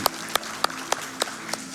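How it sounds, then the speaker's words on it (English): Audience applause at the Summer Games Done Quick 2025 speedrun event after a run of Bō: Path of the Teal Lotus, heard as a steady series of about six sharp claps over a low room murmur. "This is where we clap anyways"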